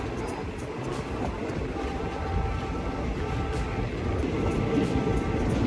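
Thai rapid train no. 135 pulls out of Muak Lek station with a steady, low rolling rumble of wheels on rail that grows slightly louder as it gathers pace. No one speaks.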